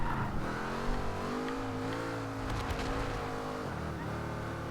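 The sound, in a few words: 2010 Noble M600 car engine in video game Forza Horizon 2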